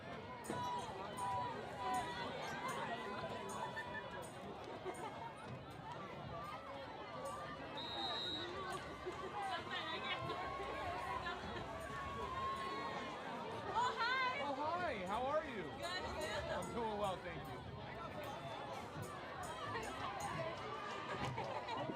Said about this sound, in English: We also bring you a lot of good crowd noise here when we broadcast, as you can hear almost everything going on.